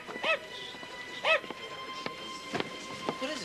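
A dog in a 1998 children's TV show gives two sharp yipping barks early on, fairly close and distinct, followed by lighter scattered knocks and faint background sounds.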